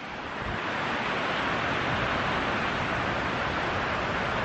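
Steady broadband wash of water waves along a park shoreline, continuous and fairly close, with a slight windy roughness and no talking.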